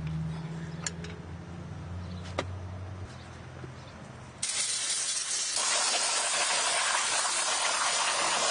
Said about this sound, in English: Spray away any brake fluid that might have leaked